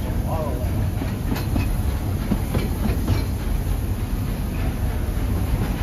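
A Walt Disney World Railroad steam train runs along a straightaway past Tomorrowland, giving a continuous close rumble with faint rhythmic clatter from the cars.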